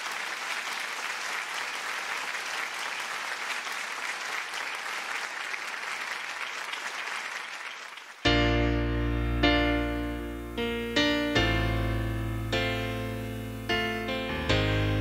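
Dense applause from a singing-competition audience greets a female singer for about eight seconds, then cuts off abruptly as loud sustained piano chords begin and continue alone.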